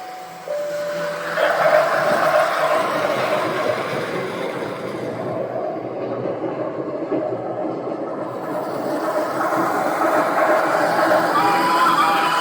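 A PATH-style commuter train rolling toward World Trade Center with stops at Newport and Exchange Place, a steady rumble of wheels and car noise filling the cabin throughout, with faint chimes and an automated announcement voice in the background.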